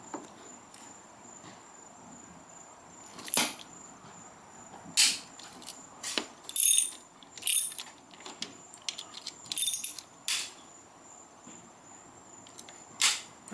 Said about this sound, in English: I'm just gonna come in and loosen up each bolt. Release the tension on them.